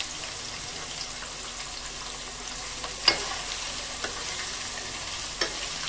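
Four chopped onions sizzling in a pan of oil and melted sugar for a chicken curry, a steady close frying hiss with occasional soft stirring clicks and scrapes.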